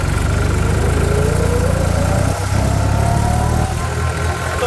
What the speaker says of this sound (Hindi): तो भाई अब इस ट्रैक्टर को जो है रोड पे ले आए हैं